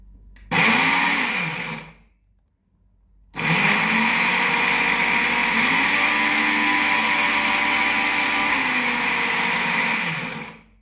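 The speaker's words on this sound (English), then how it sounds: "the second option, which is a multi-mill or a grinder unit" A Kenwood FDM307SS food processor's multi-mill grinder unit runs in two bursts, a short loud high whine, a brief pause, then a longer steady grinding roar close by that cuts off at the end.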